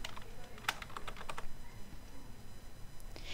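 Typing on a computer keyboard, a short flurry of light clicking keystrokes near the start, then quiet with one or two more taps, close and soft, alone without talking.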